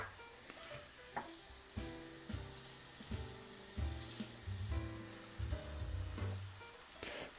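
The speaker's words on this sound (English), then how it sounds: "Fry the onion for 2 minutes at low heat" Chopped onion sizzles in olive oil in a frying pan over low heat, a steady frying crackle with a utensil stirring and scraping now and then.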